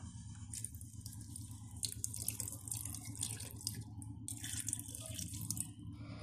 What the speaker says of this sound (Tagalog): So, lagyan natin ulit mga kaguro ng suka.